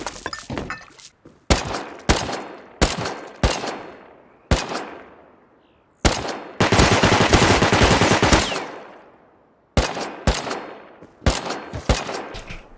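Gunfire in the Rust survival game: a series of sharp bursts of automatic fire and single shots, each with a decaying echo, plus one longer sustained burst in the middle, loud and close with no talk.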